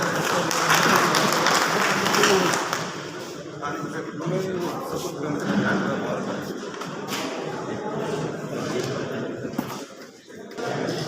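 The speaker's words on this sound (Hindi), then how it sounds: "जोरदार तालियों से स्वागत।" A burst of clapping from a crowd at a bar association swearing-in ceremony, loudest at the start and tapering off, with voices talking over and after it.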